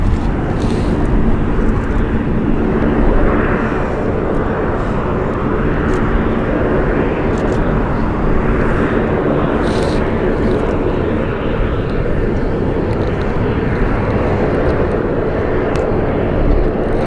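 A Pilatus PC-12 turboprop aircraft taxis at an RAF airfield during an air exercise, a loud, continuous engine roar with a broad whooshing drone and slowly pulsing swells, steady throughout with no voices.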